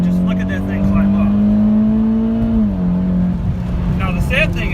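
A Mitsubishi Lancer Evolution MR accelerating hard, its engine note climbing steadily in a loud rising drone, then dropping at a gear shift and picking up again.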